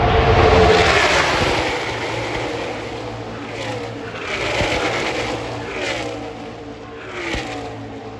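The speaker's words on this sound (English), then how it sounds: "That's a pack of just about 30 cars rolling right together." A pack of roughly 30 NASCAR stock cars at the 2020 YellaWood 500 sweeps past the tri-oval, a loud roaring engine swell that fades and rises again in waves as the tight formation goes by.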